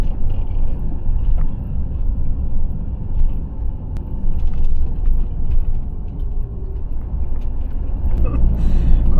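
A camper van grinds along a narrow single-lane road with a loud, steady engine and road rumble close to the microphone, and there is a brief hiss near the end.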